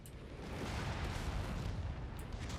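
A missile explodes in the mech combat game Mechwarrior 5 as a loud, sustained rumbling blast that fills the whole moment without any voices.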